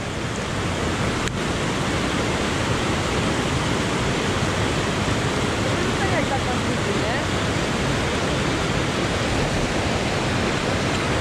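River water flows in a snowy Albanian landscape, a loud, steady, close rushing roar that fills the whole stretch without pause.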